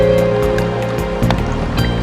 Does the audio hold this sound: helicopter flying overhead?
no